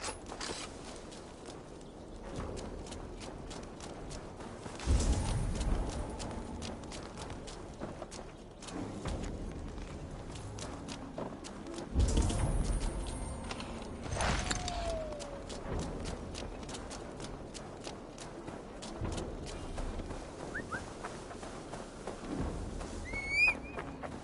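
A horse's hooves clip-clop in a Viking-era village in the video game Assassin's Creed Valhalla as it is led along. The steady hoofbeats run under creaks and ambient game sounds, with a few louder thumps.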